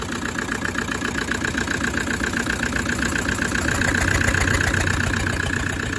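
A car engine with a cracked piston idles steadily and close by, a loud continuous rumble carrying a fast, regular knocking tick throughout.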